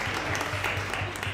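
Audience applause fills a school gym at a girls volleyball event, a steady dense wash of clapping throughout the short moment.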